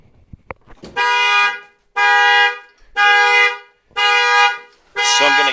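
Jeep Grand Cherokee car alarm blaring loudly, a horn-like tone repeating in four-plus evenly spaced long blasts of about a second each, preceded by a few faint clicks.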